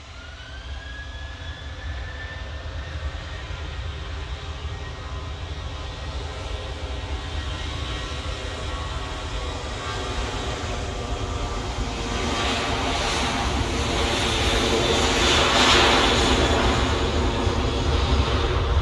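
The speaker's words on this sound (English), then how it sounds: "Got a SAS coming in on final, coming from Copenhagen, but I think the TUI is going to depart before that." Jet airliners roll and climb at Manchester Airport, a TUI departure and an SAS arrival from Copenhagen, giving a steady broadband jet roar with rising whine tones that swells louder toward the end, heard alone without talk.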